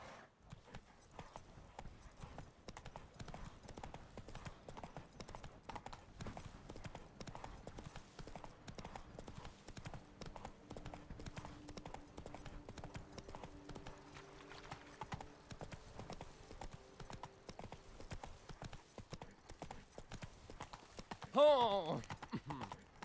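Roach the horse trots through The Witcher 3 with a steady, rhythmic clip-clop of hooves, quiet and even throughout, ending in a brief louder whinny-like burst near the close.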